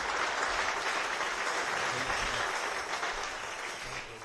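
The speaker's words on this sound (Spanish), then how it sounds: "Démosle un aplauso al Señor." A church congregation applauds with a faint, steady patter of many clapping hands. The clapping tapers off slightly toward the end.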